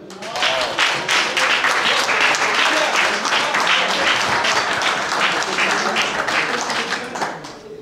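Audience applause at a ceremony marking 120 years of cycling in Troyan, a steady crowd of many hands clapping close and sustained for several seconds, then tapering at the end.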